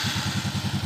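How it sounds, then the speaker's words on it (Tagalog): A Raider J115 Fi motorcycle engine idles up close with a fast, even, pulsing putter and a slight mechanical clatter, steady and loud throughout. "Yan, ganyan yung minor ng motor na to."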